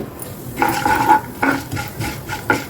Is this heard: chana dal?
yes